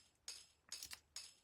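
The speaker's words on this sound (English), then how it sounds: "This was destroyed by my favorite plugin, which is called RC20" A tambourine part heavily degraded by RC20 lo-fi processing gives a few bright, jingly shakes and hits in short separated bursts, with no talking.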